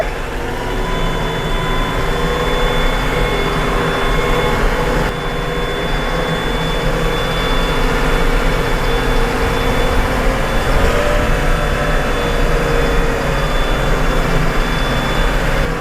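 Engine of a modern farm tractor being driven around a barn, a loud, close and continuous drone with a steady whine riding on top, with no voices.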